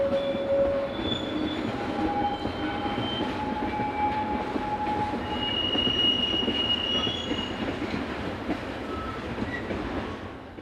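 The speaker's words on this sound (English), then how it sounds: "drifts by with a trainload of finished cars" A long freight train carrying finished cars rumbles steadily past, wheels squealing with high metallic whines over a continuous rolling roar, with no talking.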